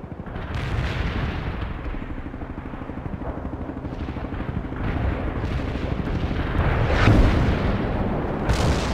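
Artillery fire support in World in Conflict rolls in as continuous low rumbling booms and blasts, with louder impacts near the end, sustained and close with no talk.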